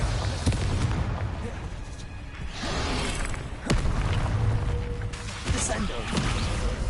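A Bombarda blasting spell explodes in the video game Hogwarts Legacy amid a dense, continuous wash of booming, rumbling combat noise, with sharp blasts and whooshes breaking through.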